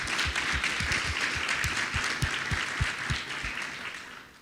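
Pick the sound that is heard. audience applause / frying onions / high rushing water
audience applause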